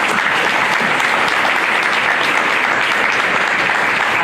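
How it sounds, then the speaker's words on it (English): A debate audience gives a loud, sustained round of applause, dense, even clapping that fills the whole stretch with no voices. "I want to give another round of applause if we could for Ezra"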